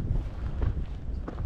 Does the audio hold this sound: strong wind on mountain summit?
yes